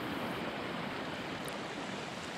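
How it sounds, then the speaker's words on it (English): A small waterfall downstream of a bridge pours after heavy rain, a dense, steady rushing hiss of falling water heard close and unbroken throughout. "there's a little bit of a waterfall."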